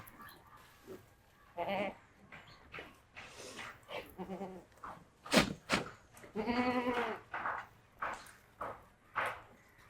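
Goats bleat repeatedly at close range on a goat farm, a series of wavering, nasal cries of varying length with short pauses between them.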